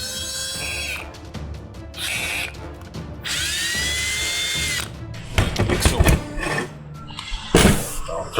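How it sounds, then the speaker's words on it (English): Power drill boring a hole in the case of a 6L80 automatic transmission in a garage build, heard in several short bursts of whirring and grinding with pauses between, fairly close and loud, with talk around it. "We're gonna drill us a hole"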